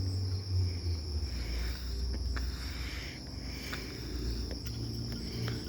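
Crickets chirp steadily at night in a quiet neighborhood, a continuous high trill that stays constant and moderately faint against a low background hum.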